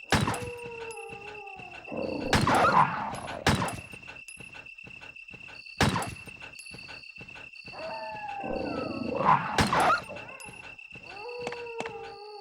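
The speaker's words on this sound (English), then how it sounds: "I hear you, dogs." Dogs howl and snarl in the PS1 video game Resident Evil, with two bursts of growling cries separated by quieter stretches, accompanied by sharp game effects and a steady electronic tone.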